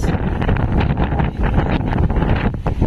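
Strong wind, around 54 to 59, sweeps over a boat at sea among waves about 11 feet high, a loud continuous roar buffeting the microphone close up with no break.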